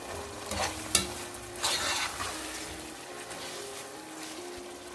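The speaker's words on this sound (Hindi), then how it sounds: "इसको 2 से 3 मिनट तक अच्छे से भूनकर" Chopped pink capsicum stirred and frying in a pan for spicy pasta, a steady soft sizzle with scraping stirs and a few sharp clinks of a utensil against the pan.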